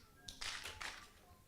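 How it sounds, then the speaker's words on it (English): A single sharp hand clap rings out in a meeting hall, a brief close percussive burst with a short tail against a quiet room. "which is the single clap."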